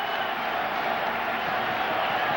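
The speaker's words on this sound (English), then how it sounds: "Crowd trying to get into it now" A large football stadium crowd at a Pitt Panthers versus Temple Owls game gives a dense, sustained roar that stays loud and steady throughout.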